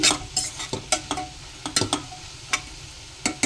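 Stirring chili powder into a dried fish curry in a pan: repeated sharp scrapes and clinks of a spoon against the pan in an irregular rhythm over a low sizzle, close and fairly loud.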